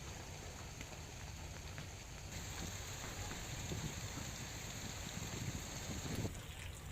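Rain falls over the village areas of Bagdana, Monpar, Titodiya and Karamdiya in Mahuva, a faint, even hiss of drops with no voices.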